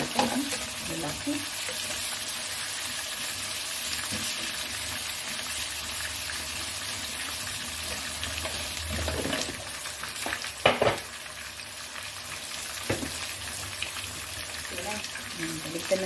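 Large shrimp fry in a pan with a steady loud sizzle and occasional scraping stirs and clinks, while a person talks intermittently nearby.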